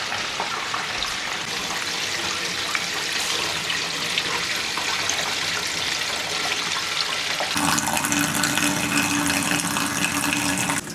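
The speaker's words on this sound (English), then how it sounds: "that's obviously filling up the tank" Water gushes steadily into a water filter tank, filling it with a continuous rushing splash that shifts to a deeper, fuller pour partway through, with no talking.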